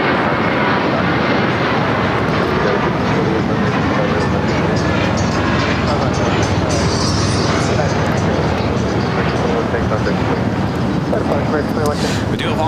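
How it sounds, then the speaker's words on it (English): Loud, continuous roar of an airliner on a flight to Boston at a busy airport, a dense broadband rumble that stays steady throughout with faint hiss on top. "This is the flight heading to Boston."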